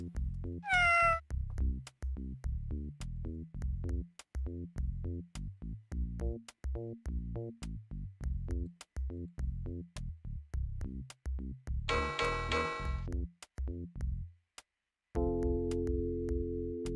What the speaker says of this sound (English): I was supposed to have exited before the cat rang the bell.